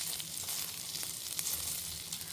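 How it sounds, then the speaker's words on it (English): Store-bought frozen dumplings fry in cooking oil in a pan with a steady, close sizzle, a continuous crackling hiss with small pops and no talking. "Let these fry a little bit."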